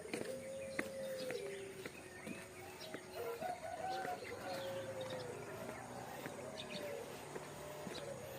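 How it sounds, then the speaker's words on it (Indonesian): Swiftlets chirp in overlapping, warbling calls over a constant low hum, the birdsong moderately faint and continuous with no voices. "Burung walet."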